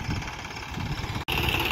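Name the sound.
tractor engine running on a palm tree plantation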